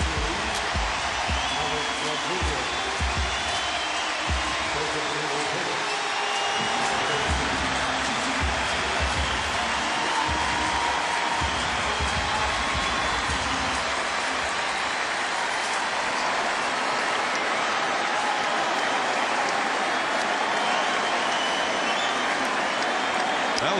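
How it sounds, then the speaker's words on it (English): Stadium crowd at a baseball game gives Alex Rodriguez a standing ovation, a dense, sustained roar of clapping and cheering that stays loud and steady throughout, with talk underneath. "a standing ovation for Alex Rodriguez"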